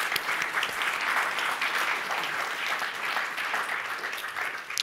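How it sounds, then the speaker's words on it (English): A seated audience at a literary club panel claps steadily for the panelists, a dense, sustained round of applause with no voices over it. "So just like a round of applause for our incredible panelists."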